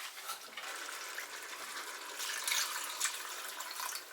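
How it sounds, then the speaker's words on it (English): Water is added from a container into a pot of ox cheek curry with chopped chili peppers, a steady broadband splashing pour that runs alone for about four seconds, swelling slightly louder toward the end. "I'm going to add a bit more water to that now."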